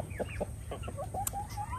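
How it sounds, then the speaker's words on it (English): Barnyard chickens and a rooster make soft, close clucks and short rising calls, a scattered run of quick chirping notes over a low background hum. "This is Stupid, our rooster."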